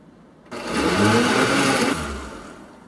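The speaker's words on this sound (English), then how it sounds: "so that's blended up well" A kitchen blender purees half a red onion and half a white onion for chicken pozole rojo, a loud steady whir running about one and a half seconds and then dropping to a quieter hum.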